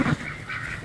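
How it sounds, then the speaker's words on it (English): A Pekin duck and Indian runner Muscovy cross duck gives a short, close honking call, a brief nasal burst lasting under a second with no talk. "that Pekin duck and runner, because she's an Indian runner Muscovy cross"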